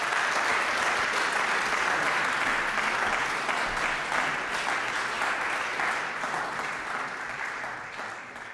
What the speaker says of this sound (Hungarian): Egy nagy tapsot kérek Thomas Kornélnak.